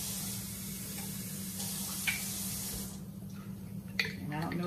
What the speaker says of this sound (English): I'm gonna take my jars that still have a little sauce in them, and I'm gonna put the water in there